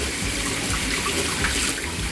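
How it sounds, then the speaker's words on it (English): Kitchen tap water runs steadily as hands are washed after touching raw meat while cooking a lasagne ragu, a close, continuous splashing rush. "Washing my hands because I touched raw meat."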